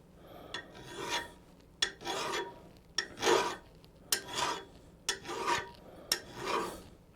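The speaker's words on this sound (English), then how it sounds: "I'm just going to polish that off where the metal came up around the tap" Rhythmic rasping strokes of a file smoothing raised metal burrs around a tapped hole in a homemade woodturning tool, about seven steady passes with short gaps, close and fairly quiet with no talk.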